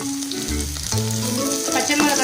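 Sautéing in a pan for a paneer keema dosa masala: a brief, close, steady sizzle with spatula scrapes and a small clunk partway through, with no talking.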